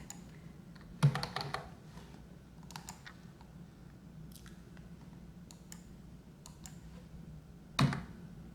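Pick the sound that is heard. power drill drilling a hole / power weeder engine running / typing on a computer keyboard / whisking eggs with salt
typing on a computer keyboard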